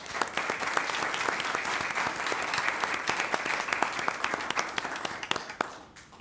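Audience applause at a school board of education meeting fills the room with steady, dense clapping from many hands for several seconds, then tapers off at the end.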